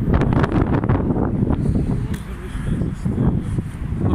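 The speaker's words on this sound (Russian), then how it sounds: "Сегодня ветер очень холодный," Cold, piercing wind blows by the Nizhny Kaban lake in Kazan, buffeting the microphone in a steady, loud, rumbling roar that runs the whole time with gusty swells.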